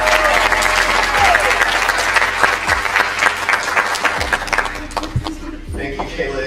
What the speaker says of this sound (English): Clap it up for Cohort 6.